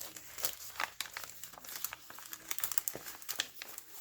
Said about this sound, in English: Here's another one of those little envelopes that I've decorated and added some goodies inside for you.